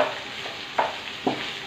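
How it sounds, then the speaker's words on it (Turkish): Hatay Samandağ peppers fry in hot oil with a steady, close sizzle, broken by a few brief clatters from stirring or turning. "İşte biber kızartması bu kadar kolay."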